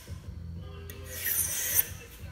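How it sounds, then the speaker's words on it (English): A knife being sharpened, with short rasping scrapes of steel over low background rumble that grow louder toward a final stroke. "sharpening my knife"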